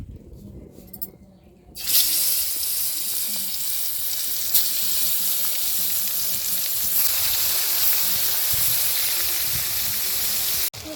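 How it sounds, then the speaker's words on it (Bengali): Baim fish coated with turmeric and salt frying in hot oil: after a brief quieter start, a loud, steady, dense sizzle takes over and runs unbroken to the end. "তো আমি এখন মাছটা ভাজে নেব।"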